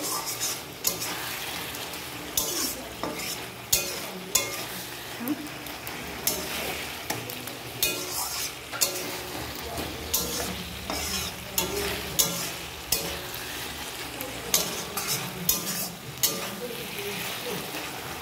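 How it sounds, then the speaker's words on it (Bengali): Taro leaves with an ilish fish head and green chilli being stirred in a sizzling pan, repeated rhythmic scrapes and clinks of the spatula over a steady frying hiss. "খুব ভালো করে এটাকে নেড়ে দিতে হবে"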